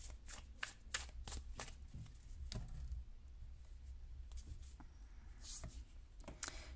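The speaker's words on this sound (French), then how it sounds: "Je te tire une carte supplémentaire de l'oracle de la numérologie pour savoir ce que ça dit." Cards from a numerology oracle deck are shuffled and drawn, giving soft repeated riffling taps and clicks at close range in a quiet room.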